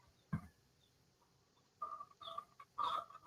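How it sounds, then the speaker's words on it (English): A rooster just outside a door gives a soft thump followed by low, throaty clucking growls in short bursts, faint and fairly close, with no talk. "That's my rooster growling outside the door."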